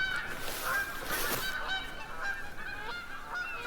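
Loud, dense honking from many Canada geese at once in a video game, overlapping calls rising and falling throughout.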